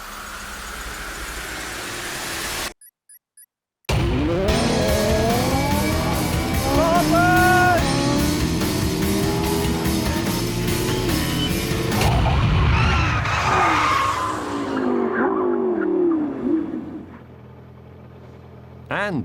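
Ariel Atom sprinting against supercars from 0 to 100 and back to 0, loud engines roaring and revving hard with rising gear-change sweeps, a brief silent gap early on, then sustained racing noise fading at the end.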